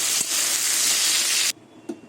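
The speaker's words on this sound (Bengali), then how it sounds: "ঢ্যাঁড়সটা একটু লাল লাল করেই ভাজবো" Okra frying in hot oil in a home kitchen: a loud, bright, steady sizzle that cuts off abruptly after about a second and a half, leaving only faint clinks.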